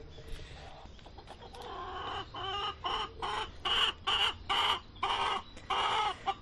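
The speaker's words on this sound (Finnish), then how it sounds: "aidan toisella puolella iso musta kana nimeltään Victoria pitää kaakatustaan" A large black hen cackles in a run of loud, rhythmic bursts that build in strength, backed by a steady hum, with a few other fowl sounds earlier on.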